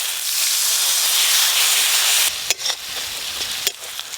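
Spice paste with Kashmiri red chili powder hisses loudly in hot oil as a little water is added for a mutton and potato curry. A sustained close hiss gives way to quieter crackling and a few sharp pops.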